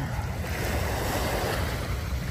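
Sea waves wash along Dolomite Beach in a steady, broad surf hiss mixed with wind buffeting the microphone, continuous and fairly close with no pauses.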